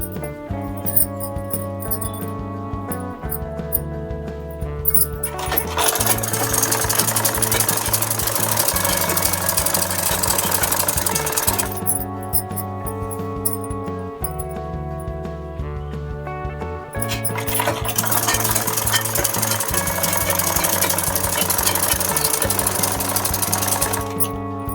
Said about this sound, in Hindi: इसी तरह से आप पूरे ही बाजू में सिलाई लगा लें।